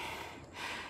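A single heavy, rushed breath, like panting after a climb at an outdoor pilgrimage site, close and breathy, wrapped in a wash of open-air noise with no talking.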